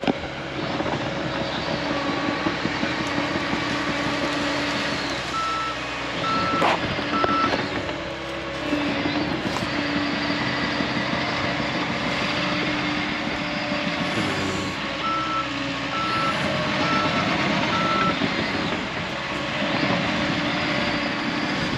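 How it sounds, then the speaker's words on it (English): Bulldozer working on a homestead road-building site, heavy diesel engine rumbling steadily throughout with intermittent high reversing beeps repeating in short runs, close and loud. "The bulldozer's on location."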